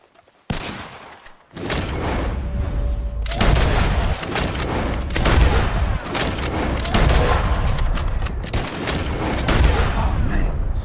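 Guns firing at birds in the video game Red Dead Redemption 2: dense, loud, nearly continuous volleys of shots and booms that begin after a short quiet opening and last to the end.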